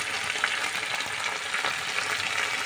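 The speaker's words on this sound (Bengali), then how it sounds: "তো আমাদের কাঁঠালটা কষানো হয়ে যাচ্ছে, দেখতে পাচ্ছেন।" Jackfruit curry sautéing in a pan gives a steady, close hiss of frying and sizzling with faint stirring, even and unbroken throughout, with no talking.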